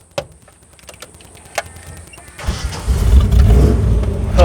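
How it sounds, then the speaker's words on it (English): A 1978 V8 Shorty cranks with a few clicks and starter churn, then catches at about 2.5 seconds into a loud, rumbling, rough idle that swells and holds, close by and with no talking. "Let's hear the sound of the V8."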